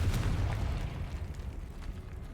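A Confringo blasting spell explodes in the video game Hogwarts Legacy, a deep rumbling boom that starts loud and slowly settles into a low, rolling tail with no talking.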